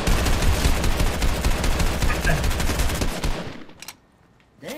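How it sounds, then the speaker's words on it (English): Rapid automatic gunfire in Fortnite, a dense, loud burst of continuous shots lasting several seconds before cutting off abruptly into near silence. "that guy's shooting at this guy up here"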